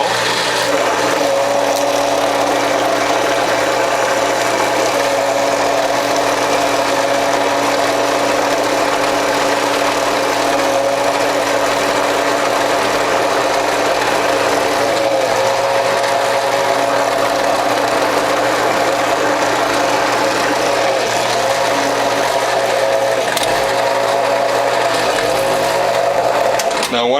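Whole Health Foundation juicer motor grinding French sorrel greens, a loud steady mechanical whir with constant droning hum, continuous and close for the full length with slight rattling variation, no pauses.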